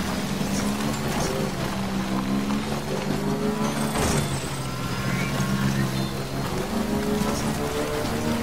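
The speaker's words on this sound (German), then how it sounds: "Dann regnet es auch." Rain in the video game Death Stranding, a steady, dense hiss of downpour running the whole time beneath a low droning hum, with one brief louder splash partway through and no talk.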